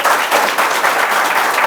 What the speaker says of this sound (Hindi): तालियाँ हो जाएं भाभी के लिए